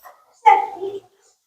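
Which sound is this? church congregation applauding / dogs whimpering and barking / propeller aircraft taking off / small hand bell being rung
dogs whimpering and barking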